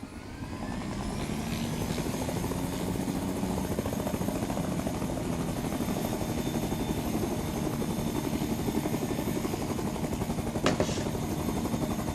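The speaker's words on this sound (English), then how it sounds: "I have a helicopter." A helicopter in the video game Fortnite, a loud, steady, close rotor drone with fast rhythmic chopping and a constant engine whine lasting throughout, with one brief sharp accent near the end.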